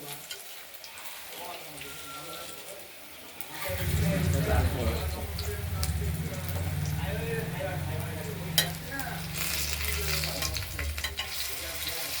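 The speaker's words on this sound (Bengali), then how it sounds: "একটু লাল লাল করে ভেজে নেবো" Vegetables frying in oil in a kadai until reddish: quiet at first, then a loud, steady sizzle bursts in partway through and continues with stirring sounds.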